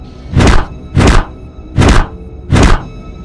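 Four heavy cartoon punches from a grandpa landing on Mr Meat, evenly spaced thuds about half a second apart, loud and close with nothing else over them.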